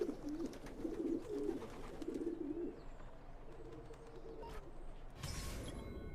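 Pigeons in Assassin's Creed II give a run of low, throaty coos for the first few seconds, fairly close, then fade into quiet ambience with a few creaks and a brief burst of noise near the end.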